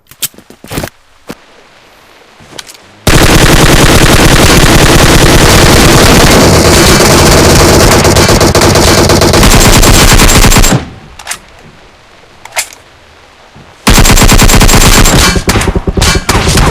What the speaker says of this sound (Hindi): हवा में फायर करने का थोड़ा सा फ़ायदा मिल जाता है